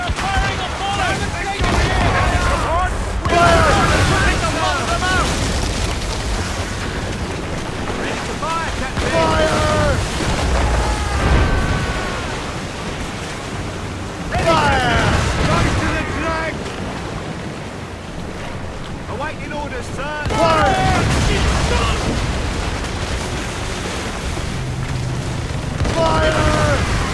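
Naval battle in Assassin's Creed Rogue, ship mortar fire and explosions booming amid loud rushing wind and crashing sea waves, with voices shouting orders over the roar.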